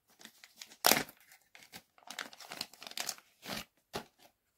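Plastic packaging crinkling and tearing as a slabbed proof coin bought at auction is unpacked by hand, a close, quiet run of irregular rustles and crackles with one louder crunch early on and brief pauses between.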